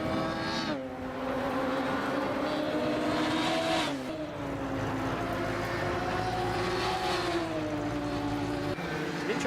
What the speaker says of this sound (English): Interesting noise coming out of that. Quite a throaty engine.